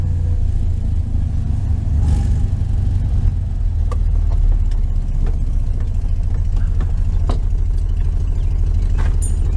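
A 1973 VW Super Beetle's air-cooled engine drones steadily on a test drive around the block, a loud continuous low rumble with road noise and occasional rattles, no talking.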